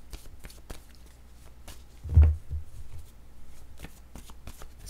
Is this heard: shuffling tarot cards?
yes